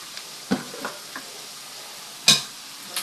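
Pakbet vegetables dropped into a hot pan, giving a few short sizzling bursts and stirring scrapes, near and moderately loud, separated by quiet frying hiss.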